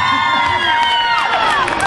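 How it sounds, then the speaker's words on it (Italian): A studio audience at a singing competition show cheers and applauds loudly, with shrill whoops and shouted voices sliding over a continuous crowd roar for a couple of seconds. "un applauso!"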